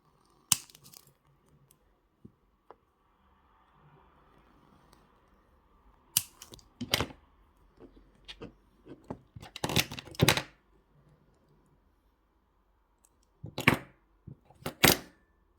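Wire cutters snipping craft wire while making wire-wrap earrings, several sharp isolated clicks spread across a mostly quiet stretch, with small handling taps and rustles between the cuts.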